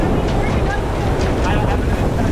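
Strong hurricane wind gusts roar around a sailboat riding at anchor during Hurricane Hilary, with loud continuous buffeting across the microphone and people talking underneath.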